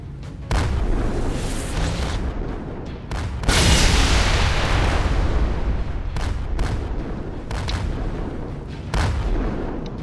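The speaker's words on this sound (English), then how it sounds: "you fire high, powerful, high damaging beams" Ships in the Roblox space game Project Stardust, a Halo-style vessel among them, fire powerful high-damage beams, heard as a run of loud booming energy blasts with a sustained roaring burst in the middle and sharp repeated shots, no talking.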